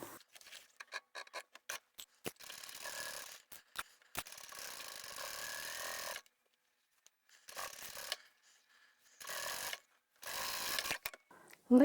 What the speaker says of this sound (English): When I stitch over the handles, I'll be going forward, back and forward.